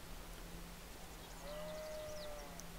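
A sheep bleats in Civilization 6 over a quiet steady ambient hum, one drawn-out faint cry with soft bird-like chirps nearby.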